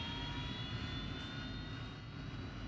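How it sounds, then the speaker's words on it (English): An AV-8B Harrier jet engine whines steadily at high pitch over a dense, constant roar during a cold start in the DCS World flight simulator, loud and unbroken with no voices. "we're going to wait for that iconic, annoying, whining engine sound of the Harrier"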